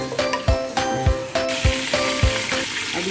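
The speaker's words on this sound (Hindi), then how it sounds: "तो सबसे पहले ऑयल में हम चिकन डालेंगे।" Hot oil sizzles and crackles as large pieces of chicken are dropped into a pan, with several thuds and clatters at a steady pace, close by.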